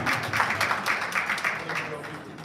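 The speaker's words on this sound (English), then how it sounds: "please give me a very big applause for my ambition" Audience applause at a live gathering, a broad, fairly close patter of many hands in rhythmic bursts that gradually fades, with a voice talking faintly underneath.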